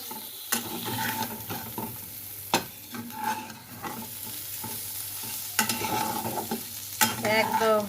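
Pabda fish frying without oil in a pan, with clattering stirring and scraping strokes over a steady sizzle; no voices.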